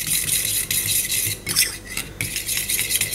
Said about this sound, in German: muss man erstmal mit ein paar Löffel Joghurt umrühren